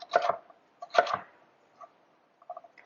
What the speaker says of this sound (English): I want a rough chop on these